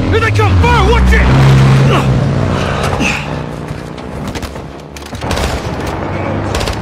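Video game battle with bursts of gunfire and booming shots under loud engine noise, shouted voices calling out over the action, with dense overlapping explosions and firing throughout.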